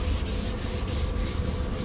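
Sandpaper worked by hand with a light touch across a car's rear bumper, a steady rasping scrub with regular back-and-forth strokes, close and continuous.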